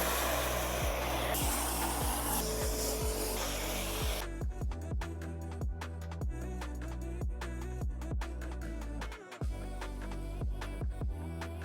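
Foam sprays onto a Suzuki GSX-S 1000 motorcycle during a wash, a steady close hiss over a droning machine hum with rhythmic pulsing throughout and no talking.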